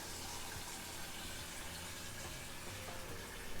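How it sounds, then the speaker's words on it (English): Tap water running steadily into a pot being rinsed, a continuous close hiss and splash with no breaks or voices. "Definitely rinse the pot."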